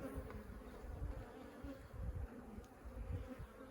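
Honey bees and drones buzz steadily inside a hive, a dense, continuous low hum with a close, swarming texture throughout.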